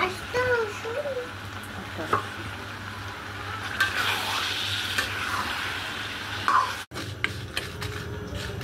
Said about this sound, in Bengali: এখন দিব আস্ত রসুন আর